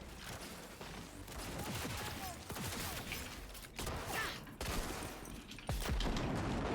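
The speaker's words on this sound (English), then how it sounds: "I'm literally just resorting to using shotguns because we're in such close quarters in the city" Shotgun fire in Cyberpunk during close-quarters city combat: repeated loud, punchy gun blasts in irregular bursts over busy background game noise, with several heavy booms toward the end.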